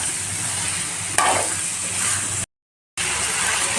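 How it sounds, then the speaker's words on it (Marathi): Chickpeas added to a pan for chana usal and mixed, a steady close sizzle with a burst of stirring and scraping, then a brief total dropout before the frying resumes. "आता आपण याच्यामध्ये चणे टाकून घेऊया. याला पण छान असं मिक्स करून घेऊ"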